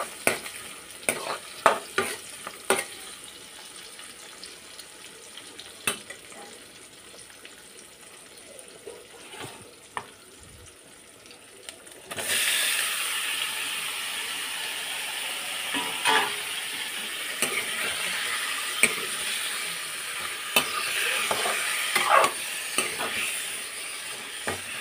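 Chicken stirred in a hot pan: sparse scrapes and clacks at first, then a sudden steady sizzle of frying with repeated stirring strokes over it, close and moderately loud, no voices.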